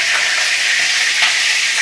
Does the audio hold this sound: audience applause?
no